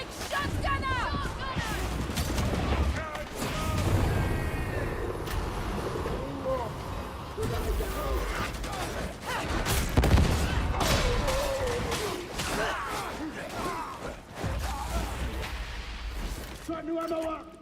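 Shotgun blasts in a video game firefight, several heavy booms scattered among other gunfire and impacts, loud and close, with voices talking over the action.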